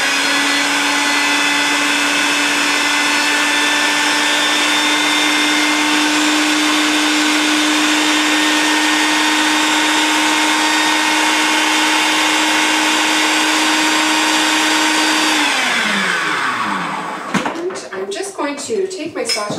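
A blender runs loud and steady on tomatoes and jalapeno for about fifteen seconds, then its motor winds down and stops, leaving clattering handling sounds at the end.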